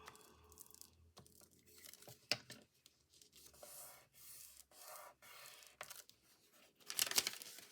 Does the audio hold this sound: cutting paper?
yes